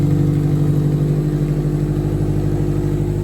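Youth compact demolition derby car engine running steadily at a constant, even pitch, loud and close, with no voices over the low droning hum.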